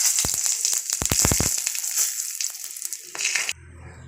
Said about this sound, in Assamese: এয়া কেৰাহীত তেল ৰৈ গৈছে এতিয়া মই ইয়াতে জিৰা শুকান জলকীয়া আৰু তেজপাতটো দি দিম